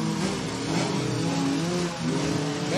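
A rally car engine revving hard in a Spanish regional rally setting, a loud continuous rough roar with rising and falling pitch heard close, alone without talk.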